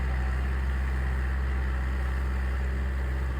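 Hand tractor engine running steadily nearby in a rural Philippine setting, a constant low droning rumble with no breaks and no talk.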